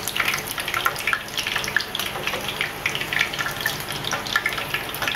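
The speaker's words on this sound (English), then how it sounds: "So the oil hot now, so I'm going to put in the fish now" Snapper fish frying in hot oil, a steady dense crackling sizzle with bursts of popping spatter, close and loud with no talking.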